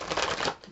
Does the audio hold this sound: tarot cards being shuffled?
yes